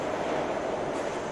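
A subway train rumbles past in a steady, loud, close roar for just over a second, with no speech.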